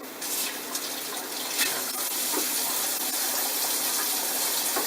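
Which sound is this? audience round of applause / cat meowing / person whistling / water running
water running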